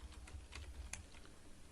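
Quiet computer keyboard typing, a brisk run of light clicking keystrokes with one sharper tap, close by over a low background hum, no voices.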